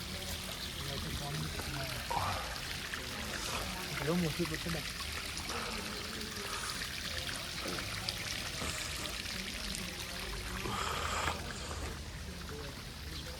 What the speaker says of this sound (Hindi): ये भी सरकार के चश्मे का पानी आ रहा है पीछे से